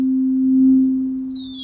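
A Pioneer DJM-900NX2 mixer effect on a plain sine wave gives a steady, loud low tone, while faint high chirps sweep downward above it in a stepping-down motion.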